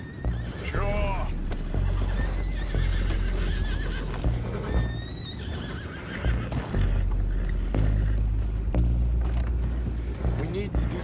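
Horses whinny in Red Dead Redemption 2, shrill neighs rising over a loud game soundscape with low rumble and water, while voices talk over much of it.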